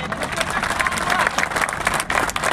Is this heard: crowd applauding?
yes